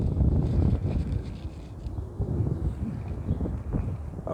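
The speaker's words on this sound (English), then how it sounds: "it's kind of windy" Outdoor wind buffets the microphone in a continuous low rumble that rises and falls in gusts, loud and close, with no talking.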